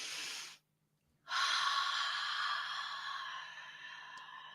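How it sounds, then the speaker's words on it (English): A deep breath drawn in during a medium's reading session: a short breathy exhale, a brief pause, then a long, steady, close inhalation that slowly tapers. "take a deep breath"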